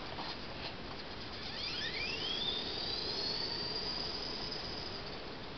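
A custom 1/18 scale remote-control Ford Bronco, a G.I. Joe vehicle, drives at full speed. Its small electric motor gives a thin, high whine that climbs steadily in pitch and stays loud and continuous, with no voices.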